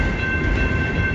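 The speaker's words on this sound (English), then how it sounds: "I heard another train horn." A CN freight train horn sounds as one steady, sustained tone over low rumble, moderately loud but somewhat distant.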